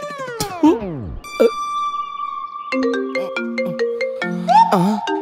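An incoming call sets off a mobile phone ringtone in a Kannada short-film scene: a loud, steady electronic melody of sustained tones and quick stepped notes, preceded by a brief vocal sound.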